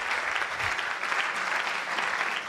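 Church congregation applauding the name of Jesus, a dense, steady wash of clapping filling the whole stretch without pause.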